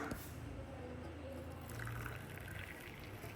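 A boiled leaf-tea decoction is strained, giving a soft continuous pour and trickle of liquid that sounds close and quiet against light background noise.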